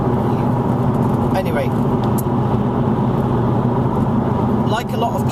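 Steady road rumble and engine drone inside a moving car on the road, constant and fairly loud beneath someone talking briefly.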